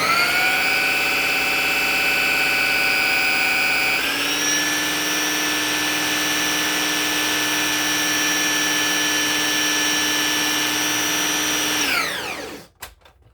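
An electric hand mixer whisks lemon cheesecake batter in a steady, loud motor whir that shifts to a higher speed partway through, then winds down and cuts off near the end, with no talking.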